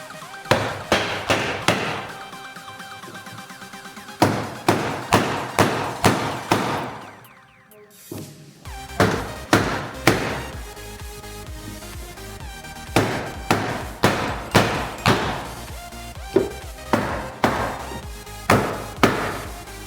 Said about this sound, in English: the loud banging starts whilst I try and knock as much of this dent